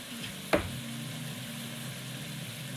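Coconut French toast sizzles quietly in a pan, a soft steady fry with a single sharp clink near the start.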